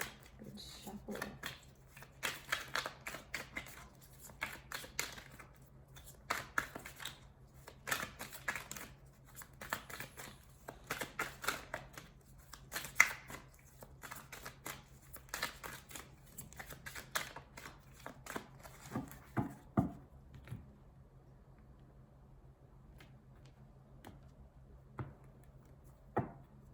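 Tarot cards being shuffled by hand, rapid soft riffling and tapping in quick irregular bursts at close range, faint overall, fading to near silence with a few isolated taps near the end.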